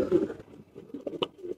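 A pigeon in a racing pigeon loft gives soft, low coos in short bursts, close and fairly quiet, with light rustling and a brief tap among them.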